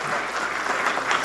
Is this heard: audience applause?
yes